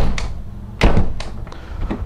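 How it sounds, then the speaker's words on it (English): A door is slammed shut with one heavy, loud thud, set among several lighter knocks and taps of the door and latch, close up and with no talk, during door adjustment. "you hold the door handle and you slam the door twice"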